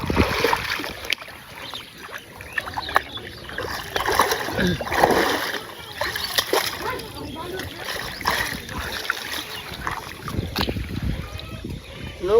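A small boat moves through water in the rainy season, with uneven splashing and sloshing under wind, while people talk nearby.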